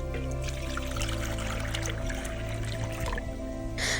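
Water is poured onto rooftop plants and into bird water bowls. A steady pour and trickle runs close by under faint background sound, with a brief splash near the end.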